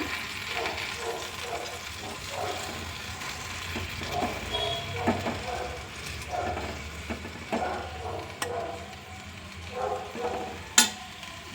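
Mushrooms fry in a little oil, a steady soft sizzle with occasional stirring scrapes and a sharp utensil tap near the end, continuous and fairly close.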